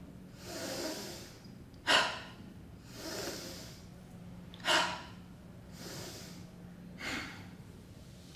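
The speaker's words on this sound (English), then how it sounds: "inhale and exhale down" Slow, deliberate breaths during a guided breathing exercise: soft drawn-out inhales alternating with sharper, noisier exhales, a regular cycle of about three breaths, close and quiet with a faint low hum underneath.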